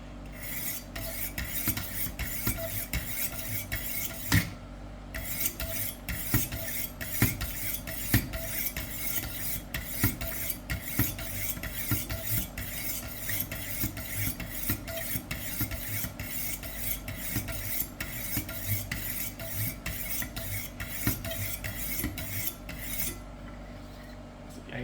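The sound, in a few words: kitchen knife being sharpened on 1000 grit whetstone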